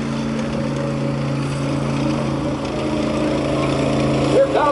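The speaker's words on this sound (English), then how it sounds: "And here comes the half track now" A half-track military vehicle drives past at a tank show, a steady, droning engine hum holding throughout at moderate distance, with a commentator's voice over it.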